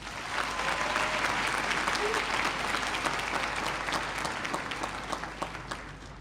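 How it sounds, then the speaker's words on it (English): A large crowd at the 2016 Wits University Welcome Day applauds steadily, the clapping dense and sustained before gradually thinning toward the end. "I think that deserves an awesome round of applause."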